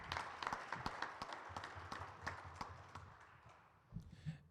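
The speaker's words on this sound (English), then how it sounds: "Can you please give a warm round of applause for Mr." Modest applause from an audience at a campus men's forum welcoming a presenter, uneven individual claps fairly close, fading toward the end with a few low murmurs.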